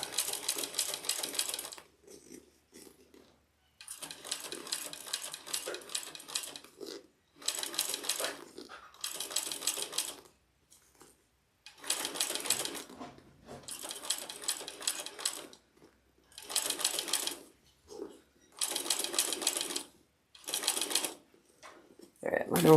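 A sewing machine stitching a custom AnnaBelle, running in loud, steady bursts of several seconds each with short quiet pauses between runs, close by and without talk.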